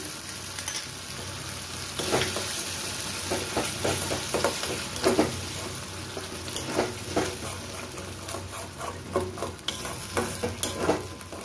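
Sour yogurt added to a pan of well-fried spice masala for a Bengali doi katla fish curry, sizzling steadily with stirring and scraping clicks throughout, close and moderately loud, no talk.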